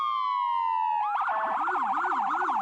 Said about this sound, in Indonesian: Wadidaw, mobil ambulan.